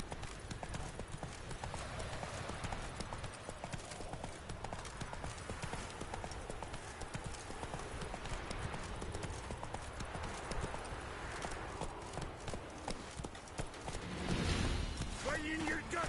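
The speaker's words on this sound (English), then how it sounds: "Run, Roach" In The Witcher 3 video game, the horse Roach gallops with a steady rapid clip-clop of hooves under constant game ambience and background voices.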